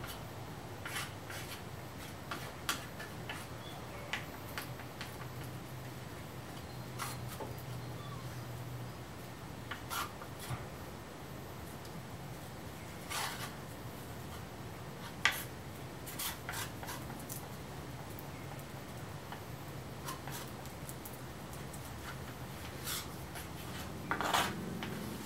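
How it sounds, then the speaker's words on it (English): Glue being spread on cherry wood strips with a craft stick while laminating a table apron, a soft, quiet scraping and rubbing that runs steadily throughout, with occasional faint taps and clicks close by. "I spread it is just a craft stick"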